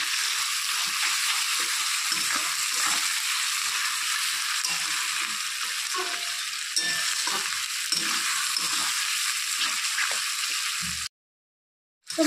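Fish fat sizzles steadily in hot oil with a pinch of turmeric, cooked for a potato and brinjal chochchori. The loud, even crackle runs close and unbroken for about eleven seconds, then stops abruptly.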